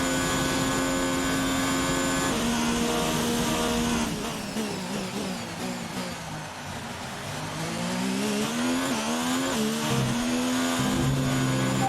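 Race car engines from the F1 2019 video game at the Bahrain circuit, a loud continuous high-pitched whine with rising and falling gear-shift sweeps and a brief dip as cars pass, with no talk.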